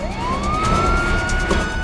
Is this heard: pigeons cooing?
no